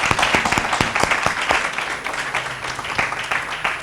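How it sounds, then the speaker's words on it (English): An audience at a personal-development event claps for the speakers, a dense, loud and sustained round of applause with many overlapping hand claps filling the room throughout. "Can we just do one round of applause for all the fabulous speakers?"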